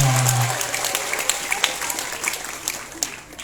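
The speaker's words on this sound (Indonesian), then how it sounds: "Tepukan untuk kita semua." Audience applause at a Santri Go Digital creative business event at Nurul Huda pesantren, a broad wash of clapping with scattered sharper claps, steady then gradually thinning near the end, with no talk over it.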